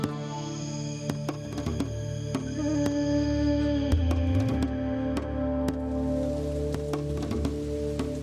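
Heavy rain pours steadily on Cherrapunji, a small village among the wettest places on Earth, east of Everest, with sharp scattered drips and taps over a continuous wash and a sustained low tonal hum beneath.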